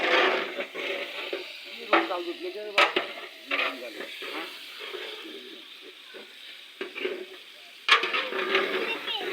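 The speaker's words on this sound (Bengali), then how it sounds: "ভাজা হচ্ছে" Steady sizzling of oil, onion and chili frying, with occasional stirring and utensil clinks, fairly close, while voices talk over it.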